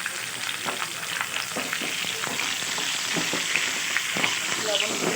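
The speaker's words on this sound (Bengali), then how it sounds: "দিয়ে আলুটাকে ভালো করে আমি ভেজে রাখবো" Potatoes with turmeric and salt frying in a pan, a dense steady sizzle with small crackles and occasional stirring scrapes, close and continuous, with no voices.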